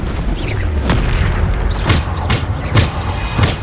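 Bombarda explosion spells boom repeatedly in Hogwarts Legacy, several deep blasts landing about half a second to a second apart over a dense, rumbling combat background.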